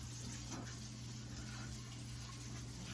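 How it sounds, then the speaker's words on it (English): Water pours steadily over washed cucumbers sitting in colanders during a final rinse, a faint, continuous hiss and splash with a low steady hum underneath. "I've got them in the colanders, and I'm going to give them one final rinse"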